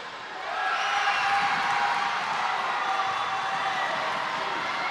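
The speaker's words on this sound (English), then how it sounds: "if you can hear the cheers of the crowd" Spectators at a Gibraltar versus UAE netball match cheer and whoop in a broad, sustained crowd roar that swells after a quiet start, with a commentator's voice faintly underneath.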